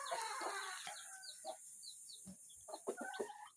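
A brooding hen sitting on eggs gives soft, irregular clucks and low grunts up close and fairly quiet, with a faint high steady hum in the background.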